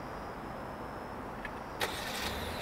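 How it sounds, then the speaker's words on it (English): A 2020 Hyundai Sonata turbo started by remote, a quiet hum and a faint tone that give way to a sudden ignition burst and a low, steady idle running at a distance. "start the car with the remote"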